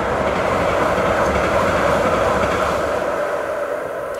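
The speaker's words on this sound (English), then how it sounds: "oh, there's a train coming" A train rolls past close by, a loud and steady rumble of rail noise that holds for several seconds and eases slightly near the end.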